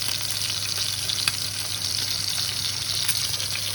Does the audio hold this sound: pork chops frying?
yes